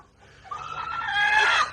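A chicken lets out a rising, drawn-out squawking cluck, close and fairly loud, with no other sounds around it.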